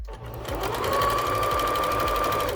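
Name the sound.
sewing machine stitching a straight seam on a fabric napkin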